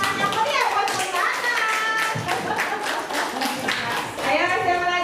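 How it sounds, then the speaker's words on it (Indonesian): Applause for a teacher from a group of school staff at a teacher-development workshop session, with scattered clapping and taps mixed with lively overlapping voices and chatter throughout. "kita kasih tepuk tangan yang meriah buat Bu Nanan"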